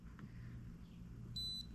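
A Pit Viper tracer beeps as it powers on, a short faint electronic tone near the end sounding once briefly over a quiet low hum.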